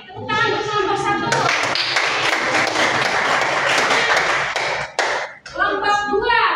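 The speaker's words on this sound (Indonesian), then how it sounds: "Tepuk tangan untuk kelompok 1." Classroom applause for a student group, a burst of clapping from many hands that runs steadily for several seconds, with children's voices talking before and after.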